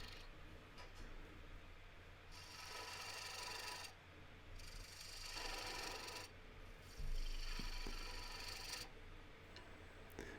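A woodturning gouge nibbles away at the foot of a turned wooden bowl on a lathe, giving a steady rasping scrape in long passes broken by brief pauses, fairly quiet and with no talking.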